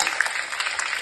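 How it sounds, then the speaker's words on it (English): A school audience at Alif High School applauds the Chandrayaan-3 landing with a brief, bright patter of many hands clapping, heard alone at moderate distance. "So give a huge applause to our nation."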